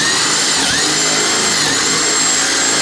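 Teccpo 12-volt brushed cordless drill in high range driving a 1/2-inch bit through material again, a loud continuous motor whine holding steady without a break, close to the microphone.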